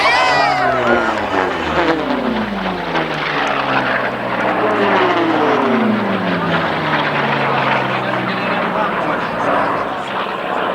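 Rare Bear, an unlimited-class propeller racing plane at the Reno air races, roars past with a loud engine drone whose pitch sweeps downward as it passes, while a commentator talks and a crowd murmurs underneath.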